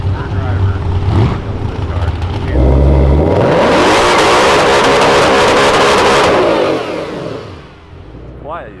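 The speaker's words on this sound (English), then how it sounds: "the VMP peeps are running their car real quick" Boosted VMP race car on a shakedown pass, loud engine surging and revving close by with a rising whine, then the roar fading as it pulls away; people talk over it at the start.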